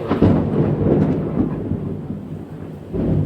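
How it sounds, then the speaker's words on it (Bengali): Heavy rain falls hard during a thunderstorm, with deep, rolling thunder rumbling loudly over a dense wash of downpour. "প্রচন্ড জোরে বৃষ্টি পড়ছে"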